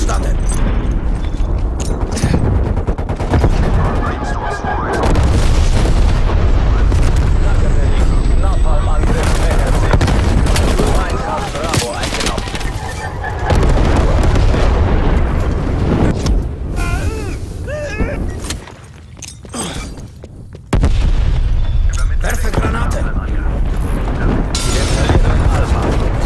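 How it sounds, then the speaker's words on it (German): Heavy battlefield din from Call of Duty Black Ops Cold War multiplayer, loud booming explosions and rattling gunfire rolling on continuously, with a short lull before the blasts resume at full force. "Kommando, Napalmangriff startet."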